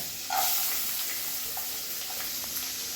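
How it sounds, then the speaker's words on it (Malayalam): Chopped garlic frying in hot oil in a pan for garlic chicken: a steady close sizzle with a dense hiss that holds throughout, brief stirring scrapes over it, no talking. "എണ്ണ ചൂടായതിന് ശേഷം അതിലേക്ക് നമ്മൾ നേരത്തെ അരിഞ്ഞു വെച്ച വെളുത്തുള്ളി ഇടുക"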